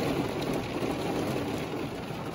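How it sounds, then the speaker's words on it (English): Hail pelts a parked car during a storm in Idaho, a dense, steady drumming patter on the roof and windows heard from inside, loud and unbroken throughout. "It is hailing right now in my car,"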